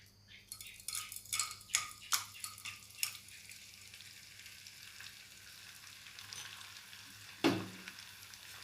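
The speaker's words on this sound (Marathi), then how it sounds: "डिंक चांगला व्यवस्थित तळून घ्यायचा आहे" Edible gum pieces frying in hot ghee in a kadai: a run of sharp crackles and pops early on, then a quieter steady sizzle with one louder burst near the end, no voices.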